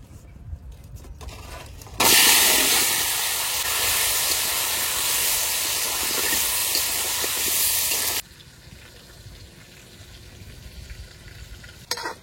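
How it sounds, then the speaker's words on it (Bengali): Potatoes frying in leftover oil from frying fish, a loud, bright sizzle that bursts in suddenly and holds steady for about six seconds before cutting back to quiet room noise. "এবার মাছ ভাজার তেলের মধ্যে আলুগুলো ভেজে নেবো"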